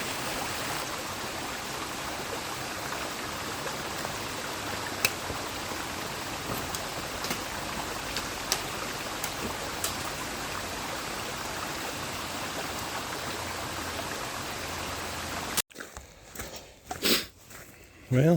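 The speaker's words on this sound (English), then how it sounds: "there is plenty of water flowing on the trail this time" Water flowing across a hiking trail in the Ozark Highlands, a steady broadband rush of a shallow stream running continuously at close range, then cut off near the end by a few brief louder knocks and rustles.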